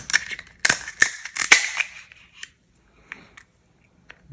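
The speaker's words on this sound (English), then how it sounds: "use our scissors here to just cut into the shell" Several sharp snips and crunches of scissors cutting through a snow crab leg shell, close up, in quick bursts, then a few faint clicks after a pause.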